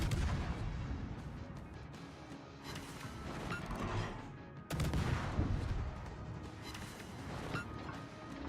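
Naval ship guns firing during a carrier battle in World of Warships, a dense roar of heavy cannon blasts and rumbling explosions throughout, with a sharp loud salvo midway.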